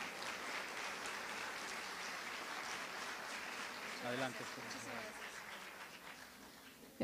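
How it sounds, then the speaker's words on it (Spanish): A conference audience applauds the incoming speaker with a steady wash of clapping that fades slightly toward the end, with a brief voice heard partway through. "brindémosle un fuerte aplauso"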